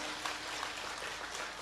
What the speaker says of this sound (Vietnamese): làm vỗ tay hoài à.